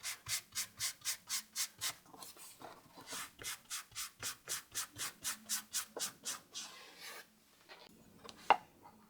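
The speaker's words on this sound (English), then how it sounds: "I apply wax to protect it from moisture." Wax is rubbed onto a bamboo survival stick in quick, even back-and-forth strokes, about two dozen soft scrapes in steady rhythm, then a pause and a single sharp tap.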